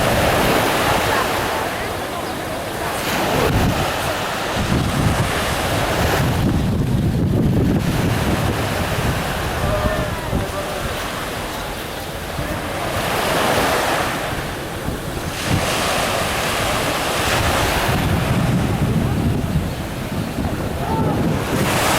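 Ocean surf washing in beneath strong wind buffeting the microphone, a steady loud roar that swells and recedes in slow surges, heard outdoors by the sea near Mykonos.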